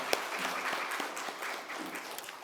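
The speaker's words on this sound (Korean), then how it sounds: "하나님 앞에 크게 영광의 박수를 돌리겠습니다." A church congregation applauding during a Sunday worship service, with many hands clapping in a moderately quiet, steady patter that holds for a couple of seconds with no speech.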